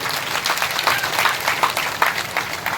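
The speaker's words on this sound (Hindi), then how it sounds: "जोरदार ताली बजाकर" An audience at a Ram Katha gathering of saints at a cow shelter applauds heavily, dense rapid clapping sustained throughout, close and loud with no voices.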